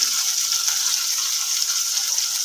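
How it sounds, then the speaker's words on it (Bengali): Fish frying in a pan, a steady bright sizzling hiss that stays even and continuous for a short stretch, with no talking. "মাছ ভাজাটা বসিয়ে দিই"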